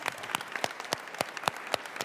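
A hearing audience at a COVID-19 roundtable symposium gives a short, sparse round of applause of distinct, separate claps.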